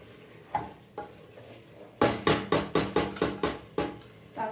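Food is stirred in a pan on a gas stove, with a run of quick, evenly spaced scraping knocks of the utensil against the pan after a couple of softer earlier taps, over a faint steady sizzle.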